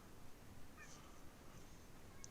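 A pet cat meows faintly indoors, with a couple of short, thin meows over quiet room noise.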